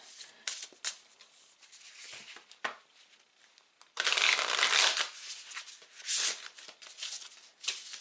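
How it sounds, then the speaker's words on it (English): Large tarot cards being shuffled and riffled in several bursts, crisp papery flutters close by, with a longer dense shuffle in the middle and quiet pauses between. "can you please shuffle these cards"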